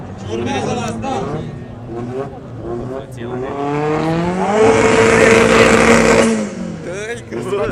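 A 30-year-old race car at the start of a Delta Racing event at the Delta Dunării airport in Tulcea revs repeatedly, its engine climbing to a loud sustained howl, with voices talking over it.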